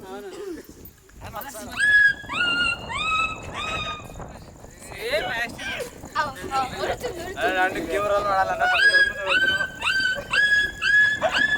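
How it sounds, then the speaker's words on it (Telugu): Several dogs whine and whimper close by in high, rising cries, with occasional sharp yelps and barks, almost without pause. "అగో ఆ కుక్కలు చూడండి ఇలా చూస్తారు"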